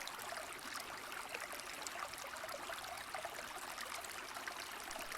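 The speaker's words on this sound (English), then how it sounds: "Only the lapping of the water filled the silence." Brook water ambience with water lapping at a shore: a continuous soft trickling babble, steady and moderately faint, with no voices.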